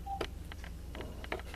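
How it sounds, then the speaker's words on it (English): A telephone number is dialed, a quick series of distinct touch-tone beeps in an uneven rhythm, close and clear against faint background hum. "You're going to simply call the number."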